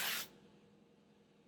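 A single short, loud burst of hairspray from an aerosol can is sprayed onto a vintage hairstyle, hissing briefly before fading into quiet room tone.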